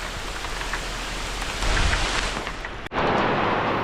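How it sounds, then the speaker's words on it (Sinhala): Very heavy rain pouring in Kotmale, Sri Lanka, a dense, continuous hiss that swells midway and drops out for a split second before returning at full strength. "පට්ටම සැර වැස්සක් ගයිස් වහින්නේ"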